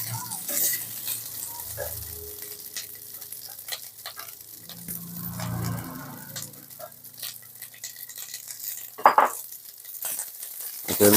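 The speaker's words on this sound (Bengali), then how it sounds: "হালকা করে ভেজে নেব।" Chopped onion and capsicum fry in mustard oil in a pan, with a low steady sizzle broken by stirring scrapes and a couple of sharper clinks near the end.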